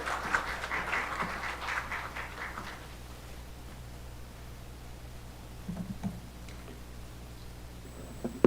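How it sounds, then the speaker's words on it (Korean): At a landscape architecture society's spring academic conference, an audience welcomes a speaker with a short, moderate round of applause that fades after a few seconds, followed by quiet room noise and a few soft shuffles. "여러분 큰 박수로 환영하여 주시기 바랍니다"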